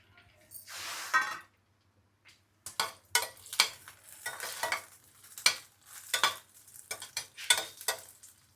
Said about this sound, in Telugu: చట్నీ రెడీ చేస్తానండి కొంచెం ఆయిల్ అందులోనే పచ్చిమిర్చి